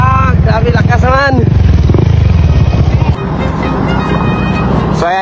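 A repaired Honda Click scooter engine, its clogged fuel filter just fixed, runs loud and close under steady revving, with people talking over it and a drop to a lower idle near the end.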